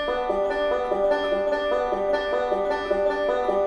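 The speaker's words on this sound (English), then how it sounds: "You also have the backward roll," Banjo backward roll picked middle, index, thumb, a bright, even, repeating cascade of plucked bluegrass notes played close and clear.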